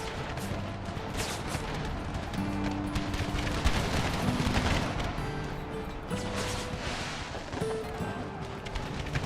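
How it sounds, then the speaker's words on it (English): Cannons booming in Empire: Total War with the Brothers vs. Brothers mod, a Confederate-era battle. Scattered dull blasts and crackling volleys roll on over several seconds beneath layered battle music. "Cannons fire."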